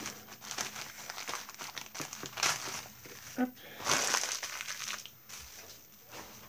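Tissue paper crinkling and rustling as a gift package is unwrapped, with steady crackly handling throughout and a few louder crumples, while a person speaks briefly.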